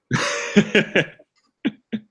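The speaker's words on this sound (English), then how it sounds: "people are probably going to hear me cough more often because I can't readily mute myself" Several short coughs from a person chatting during a tabletop game session, close to the mic: a longer first fit followed by two brief separate bursts, no talking.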